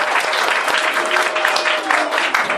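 Students at a school wildlife-day celebration clap and cheer loudly and steadily, a dense, continuous wash of applause that fills the whole moment.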